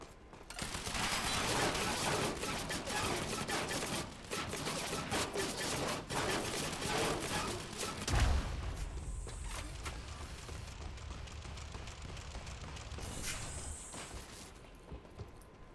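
Heavy automatic gunfire from a turret in the video game Quantum Break, a dense continuous barrage for about eight seconds followed by a single deep thud, then scattered quieter shots and mechanical noises.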